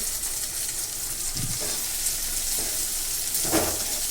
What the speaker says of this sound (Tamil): வெங்காயம் வதங்கின பிறகு தக்காளி போட்டு அதுவும் நல்லா வதக்கிட்டு